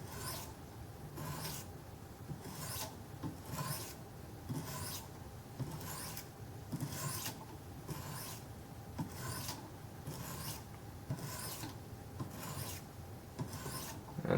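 A knife is drawn over Wicked Edge sharpening stones in steady, rhythmic strokes, each a smooth, even rasp repeating about every second, close and quiet with no speech.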